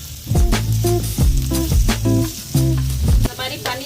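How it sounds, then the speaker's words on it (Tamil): Paneer pieces fry in coconut oil on a dosa pan, giving a loud close sizzle broken by clattering utensil knocks in a choppy rhythm, with no voices. "பன்னீர் பீசஸை ஒவ்வொன்றா இந்த மாதிரி ஆயிலில் போட்டுக்கலாம்."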